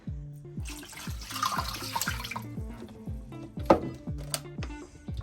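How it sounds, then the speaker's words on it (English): The rest of a bottle of water poured into a measuring cup for atole, a close, continuous splashing stream with a sharper splash near the end and repeated short knocking sounds throughout, no talk. "Pour in the rest of that bottle."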